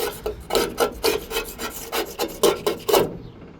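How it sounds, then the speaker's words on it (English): Sticky adhesive is scraped off the fender of a Jeep XJ with a makeshift tool, making about a dozen rhythmic, raspy strokes close to the listener, loud and alone, ending abruptly. "use the wrong tool, and it just scrapes right off"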